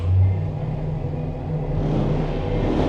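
A deep, steady simulated rocket-liftoff rumble fills Disney's Mission: Space ride cabin, a loud low roar that swells slightly and holds throughout.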